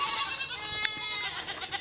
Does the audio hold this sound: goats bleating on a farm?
yes